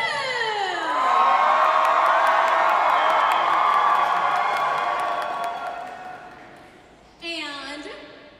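An audience cheers and shouts loudly, swelling into a sustained roar of voices and whoops with a few claps. The roar then fades, and one voice breaks in at the end.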